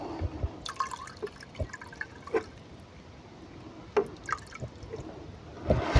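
Table vinegar poured from a small cup, a faint trickle with scattered drips and splashes.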